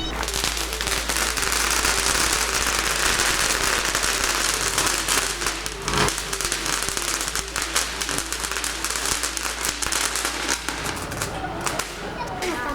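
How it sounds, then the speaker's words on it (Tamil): Lima Fireworks firecrackers burst in a dense, loud, continuous crackling barrage of rapid pops for the whole stretch, thinning slightly near the end, with faint voices underneath. "ஸோ ஒரு கலர்ஃபுல்லான ஒரு ஃபேன்சி வெடி"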